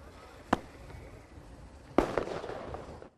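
Fireworks hurled by protesters at police during a clash at barricades in North Rhine-Westphalia, Germany: two sharp, moderately distant bangs about a second and a half apart, the second followed by crackling echoes over faint background noise.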